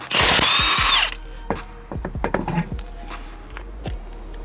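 A power tool fitted with a 21mm socket spins off lug nuts on a Dodge Challenger with a loud, brief high-pitched whir, followed by scattered clinks and clunks as the nuts come free.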